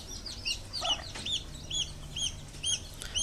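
A hen clucks softly and repeatedly while her chicks peep in quick, high chirps close by, a busy, fairly quiet farmyard scene with no talking.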